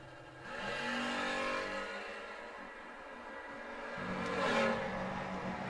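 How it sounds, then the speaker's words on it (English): Drag race at a strip pitting a wagon against a GMC Sonoma, with loud engines revving and roaring that build and swell toward the end, no talk over them. "Left-hand lane, the wagon dialed 614, taking on the Sonoma of Daniel Campton on a 628."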